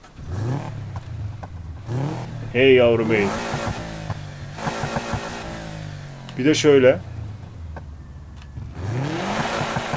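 A modified Subaru Impreza WRX STI engine revs in loud bursts in the video game Need for Speed Heat, rising and falling between stretches of someone talking over it.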